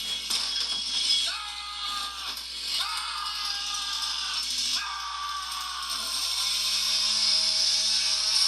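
A chainsaw in the Minecraft Advent of Ascension mod revs repeatedly, with rising and falling engine whines in several bursts, ending in a longer steady drone, loud and up close amid busy game noise.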